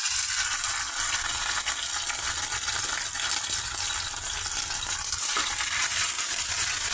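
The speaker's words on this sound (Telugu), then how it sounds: "2 టేబుల్ స్పూన్స్ అల్లం చిన్నిపాయల పేస్ట్ యాడ్ చేసామండి ఈ ఆయిల్లో" Two tablespoons of ginger garlic paste fry in hot oil with a steady, loud, close sizzle and hiss, broken by a few soft stirring knocks, with no voices.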